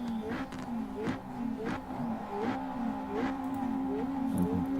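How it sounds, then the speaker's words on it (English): A VW GTi race car sits on the grid at Phakisa before the start of an SRA GTi Challenge race, its engine revving in repeated short blips over a steady idle, heard from a distance with no voices. "Here's him revving up"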